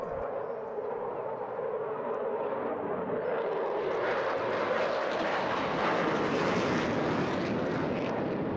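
A Eurofighter Typhoon pulls a hard 9G turn at the Eastbourne International Airshow, a loud jet roar that builds and brightens as it sweeps past, continuous throughout.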